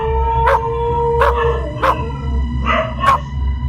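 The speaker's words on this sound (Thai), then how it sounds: "มีแต่หมาเห่าคอยอยู่" A dog barks and howls about five times in a loose rhythm, close and loud, over a steady low hum with no talking.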